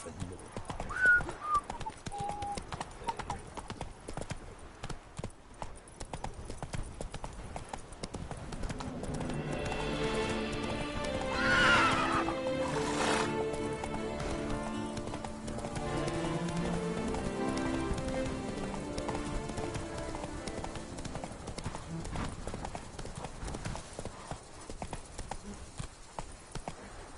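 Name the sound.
horse Roach galloping in Witcher 3 video game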